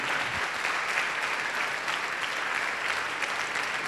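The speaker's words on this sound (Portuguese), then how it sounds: "Vamos aplaudir muito o nosso Senhor." A church congregation applauds during a sermon, a continuous broad roar of many hands clapping that holds steady for several seconds at moderate distance.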